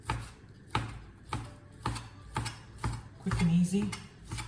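A knife chops bacon on a cutting board in regular, close knocks about every half second, with a brief voice speaking near the end.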